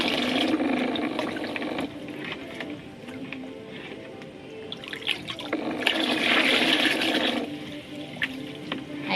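Water poured and stirred in a container to dissolve bloom booster fertilizer for plants, a steady splashing and trickling close by with a louder surge of pouring partway through.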